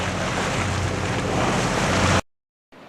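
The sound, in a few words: Westerly Fulmar sailing yacht motoring under engine at sea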